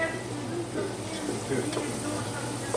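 Home-cooked food sizzling in a pan while being stirred, a continuous close frying hiss with occasional spoon scrapes and faint background voices.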